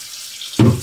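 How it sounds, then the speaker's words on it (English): Regular tap water pours into a container for a homemade salad dressing, starting abruptly after a quiet moment as a loud, close, splashing gush with no talk. "Then you go back and you pour some regular water"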